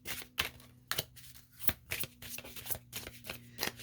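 A deck of tarot cards being shuffled in a series of quick riffling bursts, about nine close, crisp snaps spaced irregularly with short pauses between them, heard alone without any voice.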